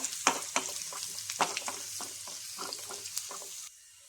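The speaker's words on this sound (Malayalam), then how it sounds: "എന്നിട്ട് ഇതൊന്ന് ഇളക്കി കൊടുക്കാം." Crushed ginger and garlic sizzling in a hot pan while being stirred, with a soft frying hiss punctuated by scraping stirs and clinks, fairly quiet and close.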